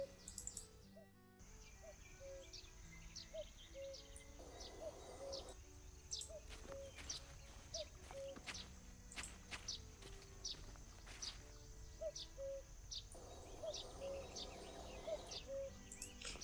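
Ambient birdsong and insect chirps in the point-and-click adventure game The Night of the Rabbit, with repeated short tweets and a steady buzzing background under intermittent light tapping steps, no voices.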